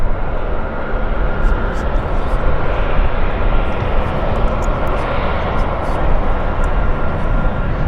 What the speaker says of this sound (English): good looking KC-135